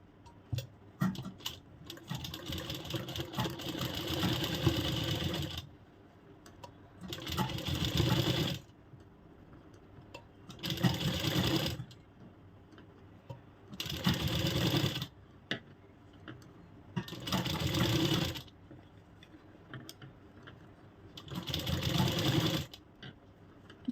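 A sewing machine stitches around the edges of a piece of fabric in six bursts of rapid, rattling needle action, each lasting a few seconds and separated by short pauses of near quiet, heard close up.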